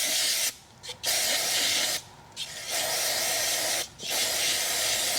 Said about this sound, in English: I'm going to take a little brake cleaner or carburetor cleaner just to blast these pulleys off